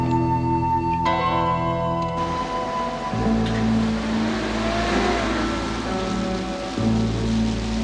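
A car drives steadily with Meg at the wheel, its engine a continuous low hum that shifts in pitch as gears change, under a wash of road and rain-like noise with no talk.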